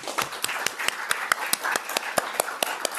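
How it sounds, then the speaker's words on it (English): Scattered audience applause closes a panel discussion on borders: a thin, uneven patter of individual claps, fairly close, with no talk over it. "I would like to ask you to join in one last round of applause to thank everybody here today."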